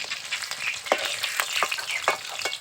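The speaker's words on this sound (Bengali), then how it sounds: "এখন বাকি যে মাছগুলো আছে সেই মাছগুলোকে একইভাবে ভেজে নেব" Pieces of fresh pond rohu fish frying in oil, a close hissing sizzle punctuated by several sharp spits and pops.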